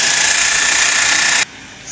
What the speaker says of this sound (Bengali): এবার আমি স্ক্রু আটকাবো। 4টা স্ক্রু সুন্দর মতো ওকে আটকাতে হবে।